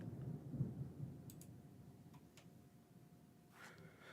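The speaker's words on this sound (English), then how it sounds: "I'm starting to hear some thunder and stuff in the background outside." A low, rolling rumble of thunder from a storm outside, heard faintly through a room at a distance and fading over a few seconds, with a few light clicks.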